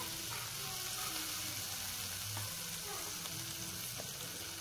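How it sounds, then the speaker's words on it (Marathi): Grated raw mango sizzles and fries steadily in hot oil tempering for a pickle, with a close, even crackle and occasional stirring scrapes, and no voices. "आता हा कैरीचा खिस आपल्याला व्यवस्थितपणे तेलात परतून घ्यायचा आहे"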